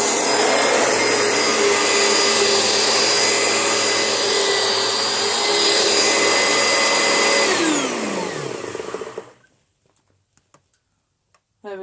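An Oreck vacuum cleaner makes a quick pass over carpet, running loud and steady with a high whine, then winds down and cuts off near the end, leaving near silence with a few faint clicks.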